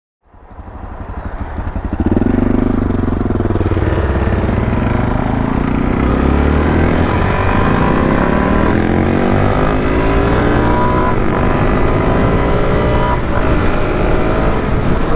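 A Suzuki DR-Z4S dual-sport motorcycle rides on a highway at a steady 60, its engine loud and close, building up over the first seconds into a sustained drone with gear-like pitch rises and heavy wind rush.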